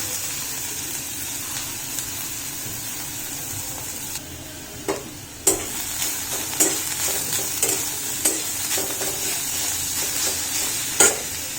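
Cabbage with green chilli and ginger stir-fries in hot oil, a constant close sizzle with sharp clacks of a spatula stirring against the pan at irregular intervals, no voices.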